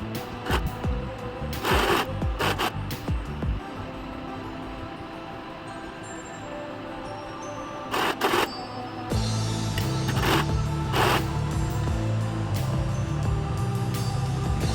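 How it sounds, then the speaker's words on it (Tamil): A sewing machine stitches the side seam of a silk skirt in short rattling runs early on, then one long continuous whirring run near and loud. "இப்போ சைடு தைச்சிக்கிட்டு இருக்கேன்"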